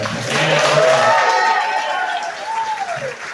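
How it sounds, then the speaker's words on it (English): Audience at a MINDS event in Austin, Texas, applauding and cheering as a steady crowd swell that slowly fades, with no talk over it. "get a round of applause for that"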